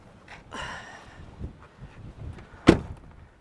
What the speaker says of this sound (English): I can hardly open the door.